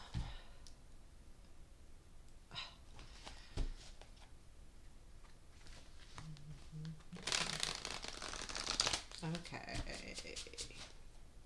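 A tarot card deck is shuffled close by, with scattered clicks and taps giving way to a dense, riffling burst of cards near the end, as a voice speaks briefly and quietly.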